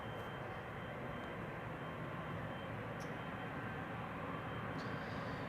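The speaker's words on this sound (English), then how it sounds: "So this is KLM flight 667 to Austin in Texas, 7879 Dreamliner" A KLM Boeing 787-9 Dreamliner airliner departs Amsterdam Schiphol Airport, its engines giving a steady, broad, distant roar with no voices over it.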